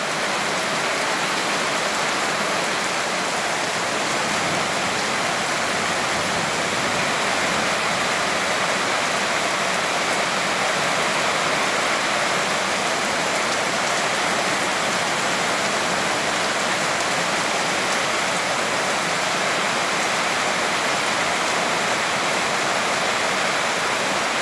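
Heavy, constant rain pours down at a ranch, a dense, unbroken hiss of drops on surfaces with no break in intensity throughout.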